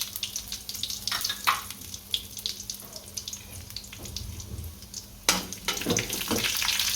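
Cumin and dry red chillies sizzling in hot oil for a poha and semolina breakfast, a crackly hiss with scattered pops and clatters and a sudden louder burst near the end.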